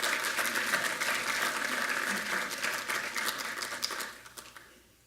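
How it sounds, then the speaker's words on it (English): An audience at a DevOps conference talk applauds steadily, a dense wash of many hands clapping at moderate volume that tapers off and fades near the end. "a round of applause for me"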